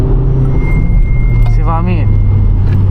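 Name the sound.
VW Polo GTI accelerating hard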